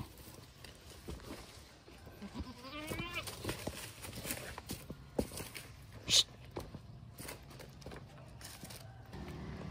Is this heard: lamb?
no